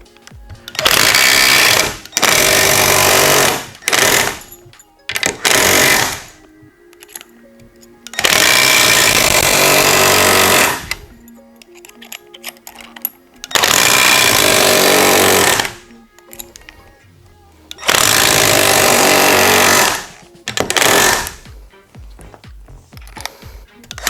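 A Milwaukee C12 PN cordless palm nailer drives nails into pine, its loud, rapid hammering buzz running in long bursts of a couple of seconds each, separated by short quiet gaps.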